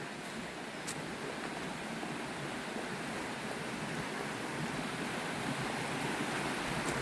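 A small stream pours into a bigger one on Bodmin Moor in Cornwall, giving a continuous, even rushing and hissing of water with no voices.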